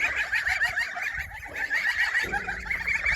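A group of young geese peep and chirp continuously, high-pitched and close, with rustling underneath.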